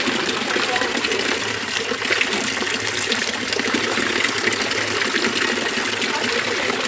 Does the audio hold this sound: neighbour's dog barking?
no